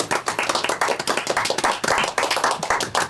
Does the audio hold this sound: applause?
yes